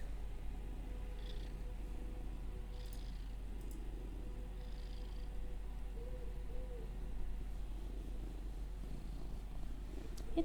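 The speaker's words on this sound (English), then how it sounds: "It's a thief kitty." A cat purrs steadily and softly up close, a continuous low rumbling drone that carries on throughout with no talking.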